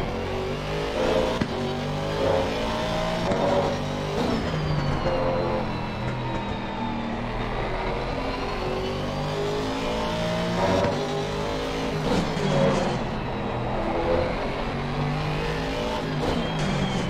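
Race car engine in a racing video game on the Barcelona circuit: a steady, high-pitched roar that rises and falls through gear changes and throttle lifts, with no talk over it.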